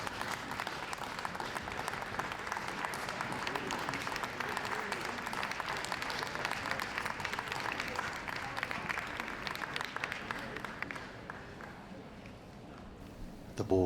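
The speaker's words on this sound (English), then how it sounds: "You may applaud your favourite" Dog show audience applauding the Gundog Group winner, a Flat-Coated Retriever, at LKA 2015 ahead of Best in Show; steady, dense clapping from a large crowd runs for a long stretch before fading near the end.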